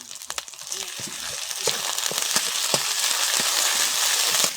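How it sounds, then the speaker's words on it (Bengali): A paste of garlic, green chili and ginger sizzles steadily in hot oil for a village-style Bengali fish dish, crackling with sharp pops and scraping stirs that grow louder and denser as it fries. "আর রসুনটা কিন্তু ভালো করে ভেজে নেবেন"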